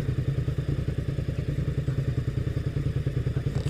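A motorcycle rolls along a bumpy gravel trail, its engine thumping in a fast, even pulse with rattling clatter from the rough ground, loud and close throughout.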